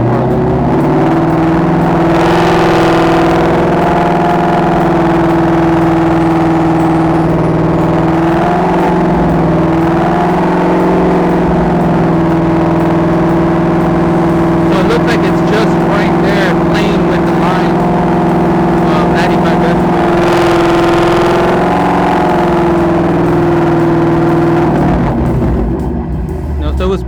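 An engine held at a steady 2500 RPM, a loud continuous drone with a constant hum throughout and brief surges of roar, while someone talks over it.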